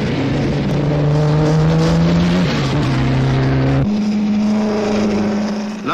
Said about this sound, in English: the 12-cylinder Delage with its twin superchargers